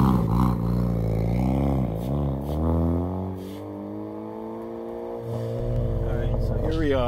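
A 2014 Ford Focus ST with a 2.0 turbo engine pulls away and drives, its engine note rising and falling at moderate volume beneath someone talking.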